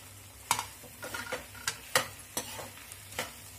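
Soya chunks are stirred in a pan over a medium flame, giving a quiet, soft frying hiss broken by a handful of sharp spatula scrapes and taps at irregular intervals, heard close with no talk.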